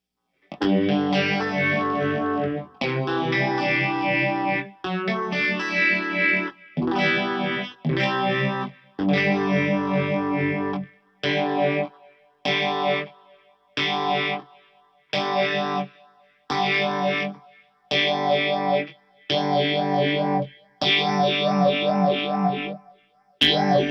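Electric guitar through a Keeley Vintage Phaser with the feedback knob raised gradually, played as a run of sustained chords and then shorter rhythmic stabs, with a swirling, increasingly oscillating phase sweep and no talking.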